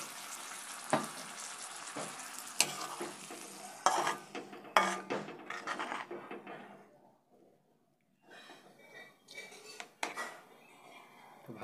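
Curry simmering in a pot after water is poured in, sizzling and bubbling close by, broken by sharp clanks of a utensil against the pot, a short quiet lull, then more bubbling and stirring.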